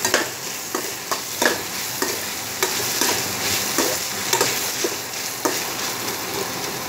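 Oil sizzles steadily in a pan during Bengali home cooking of an egg curry, with a constant frying hiss and repeated clicking scrapes of stirring close by.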